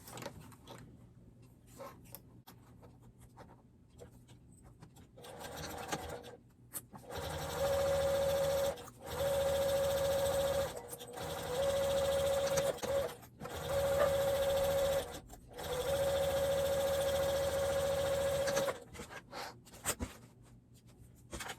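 A sewing machine stitches a zippered makeup bag in several loud, close runs of steady whirring with a clear motor hum, separated by brief stops and quiet handling at the start.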